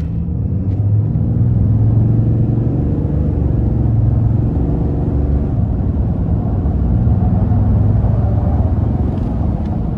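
A 2024 Ram 2500 Limited Night Edition Mega Cab pickup with a turbocharged inline-six accelerates hard onto an interstate, giving a loud, steady engine rumble and rising drone from inside the cab, with no talk.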